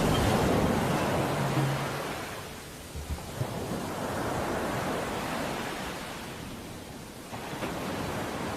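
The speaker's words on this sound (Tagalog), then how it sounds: "Ay, sarap talaga mag-beach. Namiss ko tong dagat." Steady roar of sea waves at a beach resort in La Union, broad and continuous with gentle swells in loudness, no voices over it.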